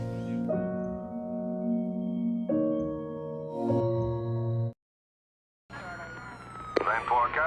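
An ambulance siren sounds in stepped two-tone wails, cuts to brief silence, then returns with harsher, noisier sirens.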